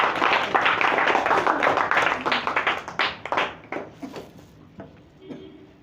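An audience at a yoga championship event claps loudly and densely at first, then the applause thins into scattered individual claps and fades out near the end, with no talk over it.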